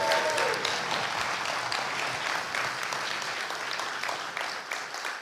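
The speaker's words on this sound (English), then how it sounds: "Can we have a big round of applause for the 4 new speakers?" Audience applause after lightning talks at a Python programming conference, a steady, dense wash of clapping from a large crowd that fills the whole clip and fades slightly at the end.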